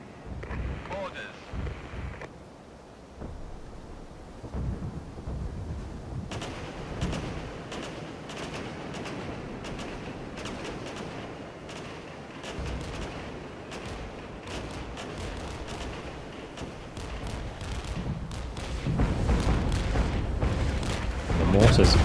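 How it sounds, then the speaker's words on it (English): Mortar rounds landing among units in the WW2-era strategy game Regiments: scattered booms and crackling impacts over a steady rumble, growing denser and louder near the end, with speech at times. "The mortars absolutely roasted those units."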